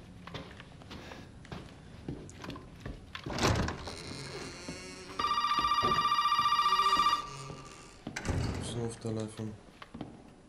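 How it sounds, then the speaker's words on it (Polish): A telephone rings in the horror video game Resident Evil 7, a steady loud electronic ring lasting about two seconds amid door thunks, footsteps and game sounds. "Telefon."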